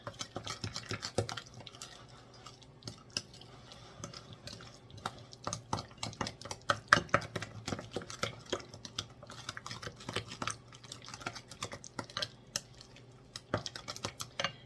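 Pumpkin cheesecake ingredients are mixed by hand in a bowl, with a continuous run of quick, close scraping and tapping strokes of utensil against bowl.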